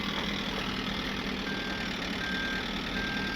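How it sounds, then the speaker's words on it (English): A 15,000-pound septic truck idles low while its reversing alarm sounds in spaced, repeated beeps, steady and moderately distant, with no talking. "Put it in reverse"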